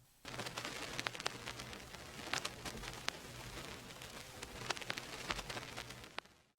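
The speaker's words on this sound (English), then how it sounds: "Let's first play the vinyl crackle" Lo-fi beat vinyl crackle sample, a dense bed of hiss with scattered sharp pops and clicks, faint and continuous with no music or voices over it.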